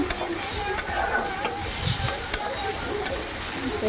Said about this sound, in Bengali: একটু লাল লাল করে পেঁয়াজটা ভেজে নিতে হবে